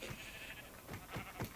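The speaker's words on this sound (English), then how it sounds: "Sheep." Sheep bleating in Minecraft, a few short wavering bleats in quick succession over a steady background hum, fairly close and moderate in level.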